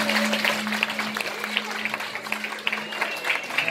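Audience applause for a rock band before a cover, a dense crowd of clapping hands that stays steady and fairly loud throughout, with a faint sustained tone underneath.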